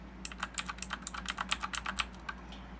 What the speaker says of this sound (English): So this keyboard is like a on budget Ducky One keyboard.